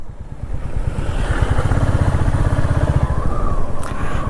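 Motorcycles ride along the India–Bangladesh border road near Dawki in Meghalaya, a loud, close engine with a steady throbbing pulse and rushing wind, continuous throughout.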